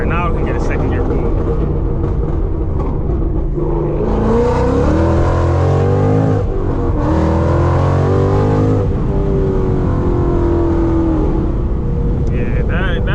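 A Whipple-supercharged Ford Mustang roars hard through a second-gear pull, engine rising loud and steady with a climbing whine before easing off, heard from inside the car.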